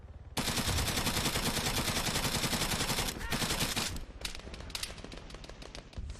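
Navid machine gun fire in Arma 3, a loud unbroken burst of rapid shots lasting about three seconds, followed by more scattered, ragged shots as it trails off.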